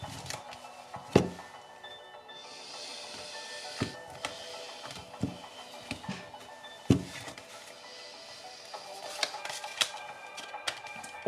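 Playing cards being shuffled by hand, with repeated sharp riffling snaps and clacks scattered irregularly over a soft continuous rustle, close and fairly quiet, with no talking.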